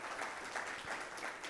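Faint, steady applause from an audience at a business lecture, a short continuous patter of clapping heard from a distance.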